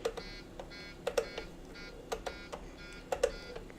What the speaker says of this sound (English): Shut up, stupid alarms.